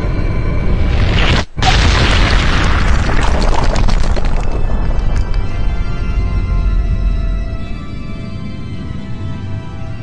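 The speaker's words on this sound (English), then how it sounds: "Every time a Colossus goes boom." A colossus explodes in the video game Shadow of the Colossus, a loud booming blast with a sharp crack that rumbles on and slowly fades over several seconds.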